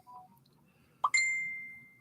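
A mobile phone notification chime rings out beside a carp rod set up with a bite alarm: one short bright tone followed by a second ringing note that slowly fades, quiet and fairly close.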